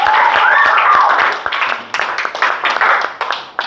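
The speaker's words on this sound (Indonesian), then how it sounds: "tepuk tangan buat kita semua" Applause from a room full of people, loud at first and then thinning into scattered claps before fading out.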